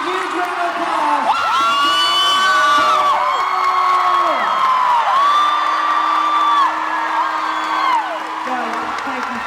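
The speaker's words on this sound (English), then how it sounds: "Everybody give a huge round of applause." A comic con panel audience at FanX Salt Lake City cheers, whoops and applauds loudly and steadily throughout. Someone shouts over the crowd noise, his voice rising and falling.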